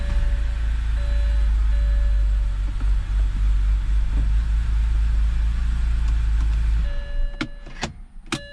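A 2006 BMW 325i idles just after starting, a steady close low rumble with a faint whine on top, until the engine cuts off and a few sharp clicks and knocks follow.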